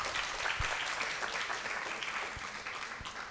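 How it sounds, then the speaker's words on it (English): Applause from an audience at a French author meeting, a steady wash of many hands clapping that fills the whole stretch at a moderate, somewhat distant level with no talk. "On applaudit, ne soyez pas timide,"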